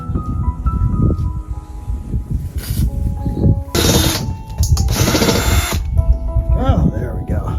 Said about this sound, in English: I wanted to take it out so I could move it to drill the holes for the jets